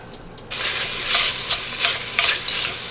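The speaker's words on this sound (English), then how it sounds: "And while this bacon is rendering down all the fat" Bacon renders its fat in a pan, starting quietly and then rising into a bright, crackling sizzle with pulsing bursts as the strips are stirred, heard up close with no talking.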